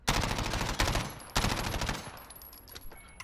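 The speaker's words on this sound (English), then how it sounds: "And then shooting, let's see recoil control." Loud bursts of rapid automatic gunfire from a video game gun during a recoil test, two sharp volleys in quick succession, each trailing off with echoing decay.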